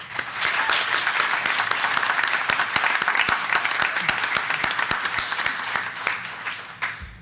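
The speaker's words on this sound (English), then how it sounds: "Please give all the candidates a round of applause for being here tonight and showing that great courage." Sustained applause from an audience at a Surrey all-candidates election forum, dense steady clapping for several seconds that fades at the end.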